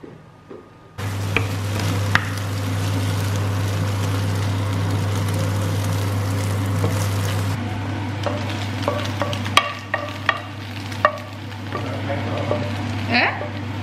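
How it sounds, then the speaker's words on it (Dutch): An egg cooking in a frying pan, with a steady sizzle and frying hiss running throughout under a constant low hum, plus occasional clinks and scrapes of utensils. "ik ga eerst even een eitje voor Miel maken"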